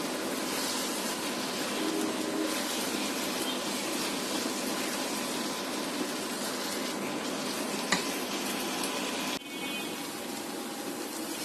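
Chicken filling for bread patties, seasoned with vinegar, sizzling steadily in a hot pan as it is stirred and fried dry, a continuous even hiss with a faint scrape or two.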